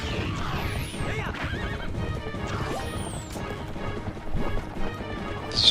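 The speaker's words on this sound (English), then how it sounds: "It's just a nice carriage ride" Horse-drawn carriage ride across Hyrule Field in Twilight Princess, with horses neighing, clip-clopping hooves, and crashing impacts building toward the end.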